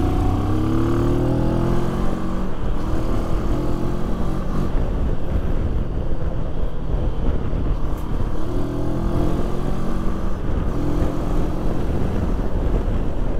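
CFMOTO 700MT A2 motorcycle engine pulling hard under acceleration, a loud continuous mid-pitched drone with rising and falling revs and steady wind roar throughout.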